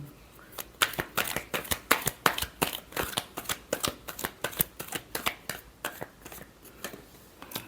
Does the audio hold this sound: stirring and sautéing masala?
no